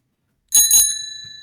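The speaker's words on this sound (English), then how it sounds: "Did you hear that bell?" A bright bell effect from a coding card project rings twice in quick succession and then leaves a clear, sustained metallic tone fading out alone.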